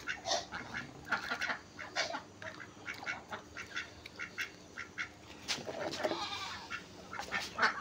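Goats bleating repeatedly in a farmyard while waiting for feed, with ducks quacking among them; the calls come in short, close, overlapping bursts against a light background hum.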